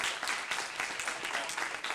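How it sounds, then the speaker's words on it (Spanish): Audience at an animation convention panel breaks into steady, dense applause, a continuous wash of clapping from a crowd in a hall. "un fuerte aplauso para Sandra Chamorro."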